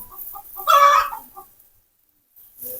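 Penned chickens give a few short clucks close by, with one louder, longer squawking call in the middle, then a brief quiet gap before more clucking.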